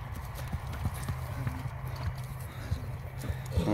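Hooves of a stallion clip-clop steadily on the ground as it is led, a regular close rhythm of hoof strikes with low background noise and a faint voice now and then.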